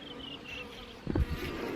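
A dense, close buzzing drone of many honeybees at a hive in drizzle fills the clip continuously, with a brief low thump partway through.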